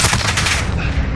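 Rapid gunfire in a Call of Duty Warzone match, loud and close, a dense burst of overlapping shots that tails off toward the end, with no talk over it.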